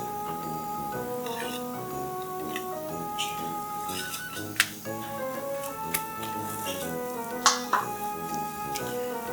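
Eggs, spinach and feta are mixed in a bowl for an egg bake, with steady scraping and clinking of the utensil against the bowl and a few sharper taps.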